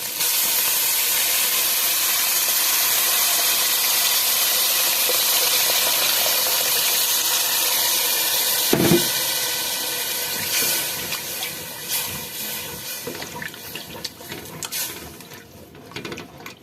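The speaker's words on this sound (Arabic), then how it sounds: "راح اضيف الماء" Water poured into a cooking pot makes a steady, loud, hissing rush that runs for several seconds, then breaks into uneven splashes and trickles as the pour tapers off.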